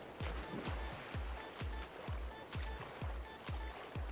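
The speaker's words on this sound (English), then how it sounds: "Gotta love the splashing sound." Water splashes in Farming Simulator 22 as a vehicle drives through water, regular rhythmic whooshing surges repeating roughly every half second, fairly loud and continuous with no speech.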